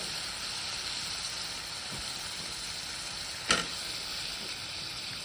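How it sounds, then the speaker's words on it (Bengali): Cucumber pieces fry in a pan for a hilsa fish curry, making a steady, soft sizzle, with a faint tap near the start and a sharper clink of a utensil partway through. "এখন আমি শশাগুলো কষিয়ে নিচ্ছি"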